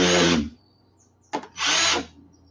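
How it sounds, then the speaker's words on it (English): A power drill whines loudly in two bursts separated by a short gap, with a brief clunk just before the second run. "then just come back through the backside and do a back drill"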